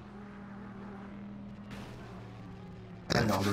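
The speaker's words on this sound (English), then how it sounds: "Love hearing the crunch of cars in the distance." In a racing video game at Mosport, a continuous drone of race-car engines runs for about three seconds before a sudden loud, harsh crash burst near the end.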